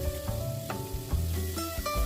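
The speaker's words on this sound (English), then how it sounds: "on the big frying pan there, I'm going to cook some yakisoba noodles for bento." Yakisoba noodles and pork belly sizzling and stir-frying in a big frying pan, a steady crackle with occasional clinks and scrapes of utensils, close up and without talking.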